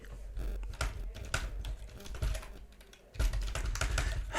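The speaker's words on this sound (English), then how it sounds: "let's say that I type more content, for example, the date, the employee" Computer keyboard typing while entering spreadsheet cell content, close clattery key presses in quick uneven runs with brief pauses, some heavier thumps like the space bar or enter key.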